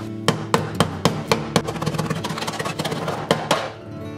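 A hammer beats a copper platter into shape, dishing it deeper. Loud, ringing metallic blows land in a steady rhythm, with quicker lighter taps between the heavier strikes, close up and with no talking.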